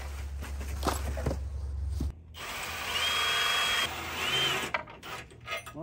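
A power tool spinning off the wheel bolts on a four-wheeler, loud buzzing bursts of motor whir separated by brief pauses and clicks, close up with no talking.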